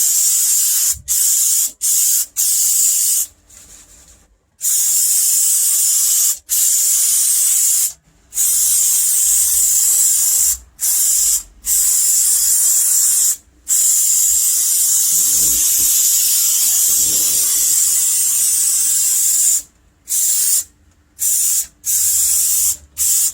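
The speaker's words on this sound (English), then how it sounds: "All right, back to the glue. Hopefully my nozzle hasn't jammed up." Spray adhesive hisses loudly from an aerosol nozzle while gluing sound-deadening insulation to the floor of a 1962 Comet car, in long close bursts broken by brief pauses.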